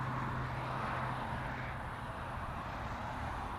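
A Lufthansa airliner passes over the LAX airport area as a broad, steady engine roar that stays loud and even throughout the short stretch, with no talk over it.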